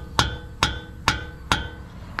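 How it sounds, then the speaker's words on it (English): Stripped Allen bolt sockets are hammered into place during wheel bearing work on a 1999 Chevy C3500HD tow truck: four sharp metallic strikes, evenly spaced about half a second apart, close and ringing. "Just hammer them in."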